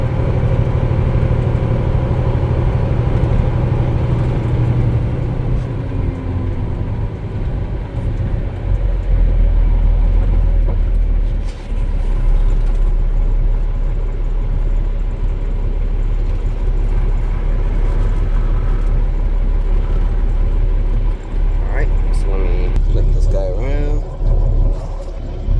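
A T800 truck engine droning steadily in fifth gear on a test drive, a loud continuous low rumble that holds for the whole stretch with slight shifts in tone, while someone talks intermittently over it.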